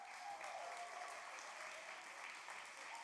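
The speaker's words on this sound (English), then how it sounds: "everybody give Nathan a round of applause" A crowd at a communion talk gathering claps in dense, continuous applause, fairly distant and even in loudness throughout, with no voices rising above it.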